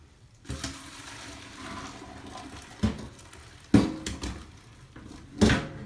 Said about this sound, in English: I'm just gonna drain this.